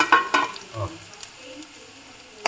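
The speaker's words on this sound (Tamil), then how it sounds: "எல்லாம் ஒன்றா போட்டு அதை வறுத்துடும்" Chana dal, dried red chillies and curry leaves dry-roasting together in a pan, with a few sharp scrapes and clatters of stirring near the start and later faint rustles and occasional ticks.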